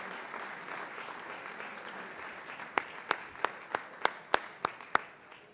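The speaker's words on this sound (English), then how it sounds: "So let's give these guys a round of applause." Tribute dinner audience applauding honorees, a soft distant patter of clapping with a few sharp, loud claps from one person close by, spaced at a steady rhythm over the second half.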